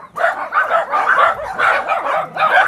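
Several dogs living with an old man at his tent bark in quick repeated bursts, loud and close, about six rough yaps in a fairly steady rhythm with no talk.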